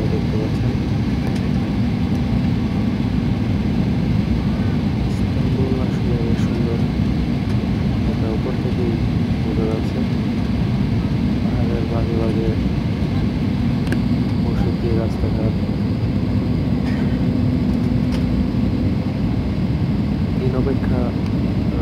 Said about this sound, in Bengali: আকাশ থেকে মাটিতে ল্যান্ড করার মুহূর্তে